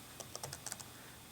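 A command is typed in a terminal on a computer keyboard, a quick close run of about eight light clicking keystrokes.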